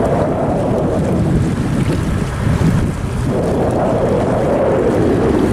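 Steady roar of a ferry crossing the Ob River, with engine rumble, wind buffeting the microphone and lapping waves throughout.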